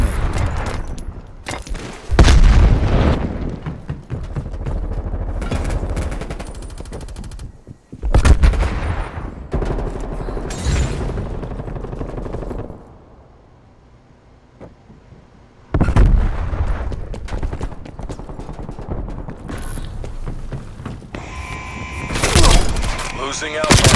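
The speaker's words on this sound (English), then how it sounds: "Throwing frag grenade." Black Ops Cold War Domination match with frag grenade blasts and heavy gunfire in dense, loud bursts, broken by one brief lull before the fighting resumes, with voices talking over the action.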